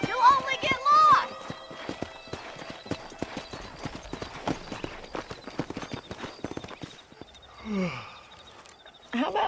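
Steady clip-clop of horse hooves walking in the video game Red Dead Redemption 2, close and rhythmic, with voices and a short whinny near the end.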